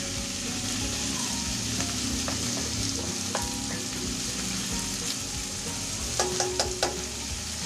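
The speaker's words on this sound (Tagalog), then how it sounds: "Halu-haluin po natin para magpantay-pantay ang luto. At hayaan po natin siyang maprito ng todo." Hotdogs frying in a pan, with a steady loud sizzle and spatter while a utensil scrapes and knocks against the pan, plus a quick run of clinks near the end.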